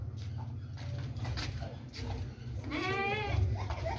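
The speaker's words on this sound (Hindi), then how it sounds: "ये देखें, दोनों ज़बरदस्त बकरियां हैं, खूबसूरत हैं" Goats offered for sale bleat nearby, one clear wavering bleat rising near the end over a steady low hum and soft background noise.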